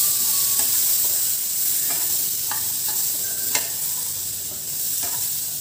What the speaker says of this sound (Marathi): हे सर्व मसाले देखील आपण छान परतून घेणार आहोत.